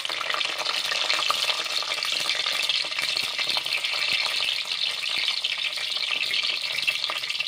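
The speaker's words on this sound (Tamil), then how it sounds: "எண்ணெய் நன்கு காய்ந்து விட்டது கடுகு பொரிந்த பின்" Mustard seeds crackle and pop rapidly in hot oil, a dense steady sizzle with sharp little spits throughout, close up and without talking.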